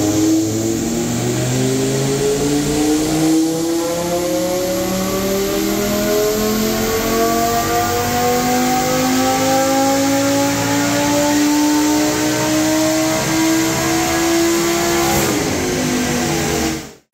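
Lamborghini Gallardo LP 560-4 V10 on a dyno, revving continuously from low to high RPM in one long, loud climbing wail before cutting off sharply near the end, close and dominant with no talk.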